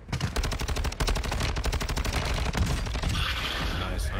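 Rapid automatic gunfire from a video game shooter rattles in dense, fast bursts, loud and continuous before tapering toward the end.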